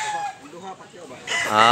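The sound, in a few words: roosters for sale at a market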